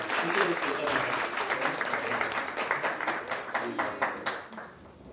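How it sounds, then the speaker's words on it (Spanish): Audience applause at an Open Data Day event in Mexico City, a dense burst of clapping that thins out into distinct, irregular claps as it dies down. "Un aplauso para ella"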